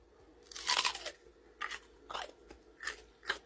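Crunchy food is bitten and chewed up close, one loud crackling bite followed by four shorter, sharp crunches at roughly even intervals in a quiet setting.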